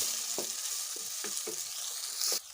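Peas and capsicum being stirred in a cooking pot over a steady hiss of frying, with a handful of soft spoon knocks and scrapes at uneven intervals, close and continuous.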